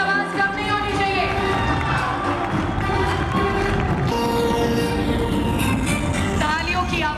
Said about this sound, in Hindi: तालियों की आवाज कम नहीं होनी चाहिए।